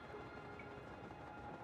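A train runs steadily in the video game Paper Mario: The Thousand-Year Door remake, a continuous quiet rumbling rattle with no voices.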